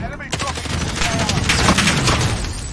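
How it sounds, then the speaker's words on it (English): Gunfire in the pirate video game Sea of Thieves: a sudden loud crack, then a dense, sustained burst of overlapping shots and booms that stays close and heavy for a couple of seconds. "Is that someone else shooting at me though?"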